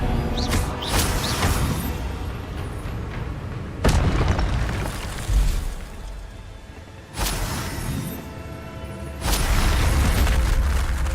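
Incendio fire spell blasts and explosions in Hogwarts Legacy on PS5 Pro, with several heavy booming bursts spaced a few seconds apart and rumbling, crackling fire between them.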